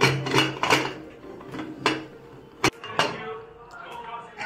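A lid goes onto a cooking pot of rice with a single sharp metallic clack, surrounded by lighter kitchen clatter and pot noises.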